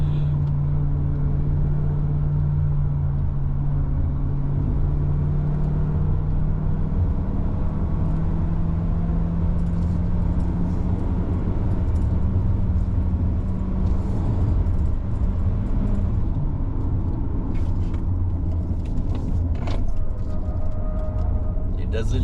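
A Jaecoo J7 AWD with a dual-clutch gearbox hums steadily through a corner on a Genting drive, with a low engine drone and a gradual pitch shift as it changes gear, while people talk inside the cabin.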